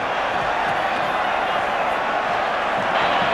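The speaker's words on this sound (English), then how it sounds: "to hear an Auckland crowd singing to the tune of this game" A large Auckland rugby crowd at the 1996 Super 12 final between the Auckland Blues and the Natal Sharks fills a stadium with a dense, continuous wash of massed voices, steady and loud throughout.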